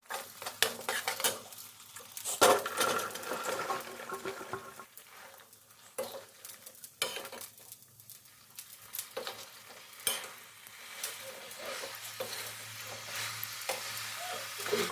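Urohi beans fry with dry chilli, garlic and onion in a pan, a soft, steady sizzle broken by repeated scraping stirs and metal utensil clinks against the pan.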